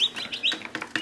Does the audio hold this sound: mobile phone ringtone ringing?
no